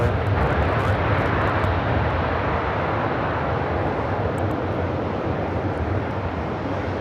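A jet airliner lands on runway 24 right at LAX, its engines a loud, steady roar that holds throughout with no pauses.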